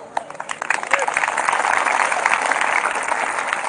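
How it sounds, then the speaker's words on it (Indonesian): Applause ripples through a church congregation during a sermon, a dense, steady patter of many hands clapping that holds for several seconds at close, moderately loud level. "Kenapa kamu tepuk tangan?"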